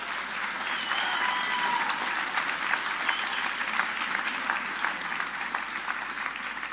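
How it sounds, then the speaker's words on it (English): A contest audience claps in steady, dense applause that carries on evenly for several seconds with no talking over it. "another round of applause to all of you guys and everyone who's been on stage"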